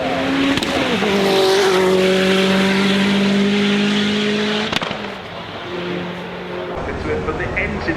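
A V12 car engine revs hard at the Goodwood Festival of Speed. A loud, close, sustained rising and falling wail passes by, with a crowd murmuring underneath.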